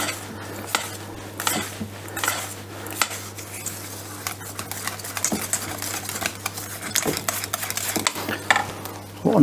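Quark and yogurt stirred together in a bowl, with steady scraping and tapping of a utensil against the bowl, close and fairly quiet, with a constant low hum underneath and no talking.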